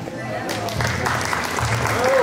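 Applause from guests at a 50th birthday celebration in Jauja, a steady wash of clapping that swells slightly toward the end, with voices mixed in underneath.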